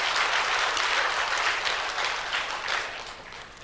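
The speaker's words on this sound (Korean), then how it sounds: "우리 하나님께 영광의 박수 드리겠습니다." A church congregation claps together during a service, a dense, continuous round of applause that stays loud and then eases slightly toward the end, with no talking.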